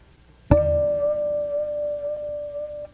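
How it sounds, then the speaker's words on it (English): A simple sine-wave harmonic tone played through a phase shifter starts abruptly after a short thump and holds as a steady, fairly loud pure pitch with a subtle wavering sweep. "if I play like one of those simple sine wave harmonics for you"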